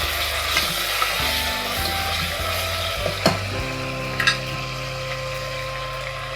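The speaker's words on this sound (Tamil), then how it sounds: "இஞ்சி பூண்டு விழுதியும் போட்டாச்சு இதை நல்லா வதக்கி விட்டுட்டு" Ginger garlic paste sizzles and fries steadily in a hot pan for a Tamil country chicken dish, a continuous close crackling hiss with occasional scrapes of stirring and no talking.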